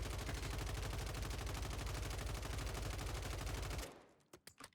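Rapid automatic fire from a Ram 7 rifle in Warzone rattles in a long, unbroken, evenly paced burst, then cuts off, followed by a few scattered clicks and thumps.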